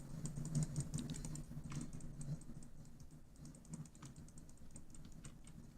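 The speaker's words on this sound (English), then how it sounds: "I'm just gonna keep clicking the sound recorder" Small plastic buttons on a handheld sound recorder are clicked in a game, producing light, irregular taps over a faint steady hum, fairly close and quiet, with no talk.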